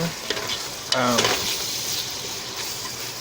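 Onions and celery sweating in a pot for potato soup, a steady close sizzle with a few stirring scrapes and a brief utensil clink near the start, no talking.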